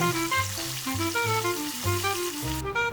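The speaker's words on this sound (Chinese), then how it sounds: "180度油炸把油都逼出来了" Chicken coated in thin high-gluten flour batter deep-fries in oil at 180 degrees, a loud, continuous sizzle and crackle with recurring low hums underneath.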